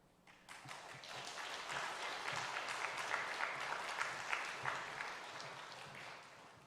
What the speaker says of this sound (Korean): 우리 선교사님 나오실 때 큰 박수로 우리 환영하도록 하겠습니다